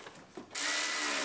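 After a brief quiet moment, a power drill suddenly spins up and whirs steadily while bolting a fog light bracket onto a rolled-over Chevrolet Silverado under repair, close and fairly loud.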